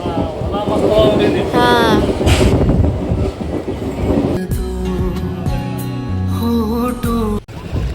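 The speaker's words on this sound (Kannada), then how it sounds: "ಟ್ರೈನ್ ನಿಂದ್ರಾಕತೈತಿ" A train rumbles and clatters along the rails with wind buffeting the microphone, the noise shifting as it slows down.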